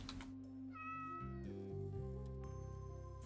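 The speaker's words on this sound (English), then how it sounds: "Must pet the cat." A cat meows in the video game Katanaut, a drawn-out wavering call over a looping electronic game soundtrack with steady bass notes.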